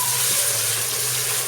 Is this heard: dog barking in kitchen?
no